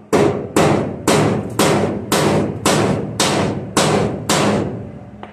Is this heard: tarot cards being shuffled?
no